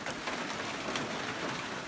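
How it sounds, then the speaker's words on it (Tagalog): Steady rain patters and hisses on a nearby hut, a soft continuous wash of drops with no voices. "So ayan na nga, umuulan na nga dito"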